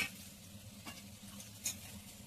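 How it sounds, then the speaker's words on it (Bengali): Potatoes and eggplant frying in a pan with turmeric and salt, a faint steady sizzle with a couple of light stirring scrapes, no talk. "হলুদ লবণ দিয়ে আমি এটাকে আলু বেগুনটাকে ভালো করে ভেজে নেবো।"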